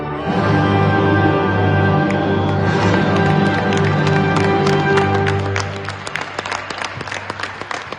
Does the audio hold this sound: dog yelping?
no